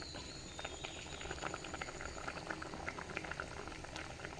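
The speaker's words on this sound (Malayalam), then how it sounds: "കറി നന്നായി തിളച്ച് വന്നിട്ടുണ്ട്" Prawn chili curry bubbling at a steady boil in a pot, a continuous close simmer of popping bubbles with no one speaking.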